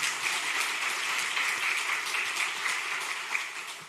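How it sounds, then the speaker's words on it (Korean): A church congregation applauds the choir during a Sunday evening service, a dense, even wash of many hands clapping steadily and fairly close, with no talk over it. "박수 한번 쳐주세요."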